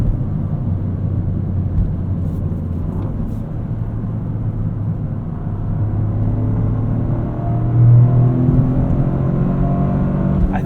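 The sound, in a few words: Toyota GR Corolla 3-cylinder turbo engine driving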